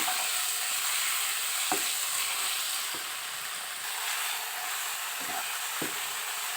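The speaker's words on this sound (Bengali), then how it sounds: "এবারে মশলাগুলোকে সুন্দরভাবে কষাতে হবে।" Spices seasoned with salt fry and are stirred in a pan for chicken chap, a continuous hissing sizzle broken by a few soft scraping strokes of the spoon.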